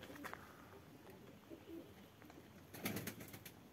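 A flock of about ten young pigeons flies overhead outdoors, giving faint, scattered wing flaps and soft coos over a steady low background, with a louder burst of flapping near the end.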